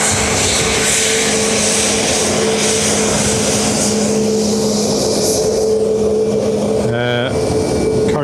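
A Qatar Boeing 777 at Dublin Airport makes a loud, steady, broad roar that holds for several seconds, then eases slightly, with a brief tonal blip near the end.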